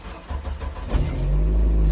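A Jeep starts up and pulls away, its engine settling into a steady low rumble after some brief rattling and handling noises, close and fairly loud with no talking.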